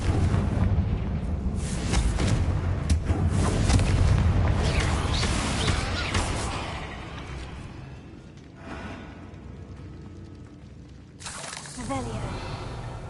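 Confringo blasting spell from a Harry Potter video game, a loud rumbling explosion with crackling debris that fades out, followed by a sharper burst near the end, with a voice speaking over it.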